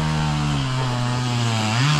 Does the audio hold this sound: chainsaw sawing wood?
yes